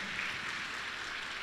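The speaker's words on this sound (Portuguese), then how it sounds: "Pode aplaudir o Senhor mais forte e adorar Ele com a sua vida" A church congregation applauding together, a steady wash of clapping held at an even level throughout, close and dense, with no distinct voices standing out.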